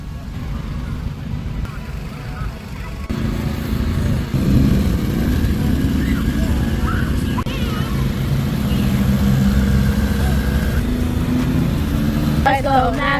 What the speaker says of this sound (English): Riding a quad bike, easy or hard?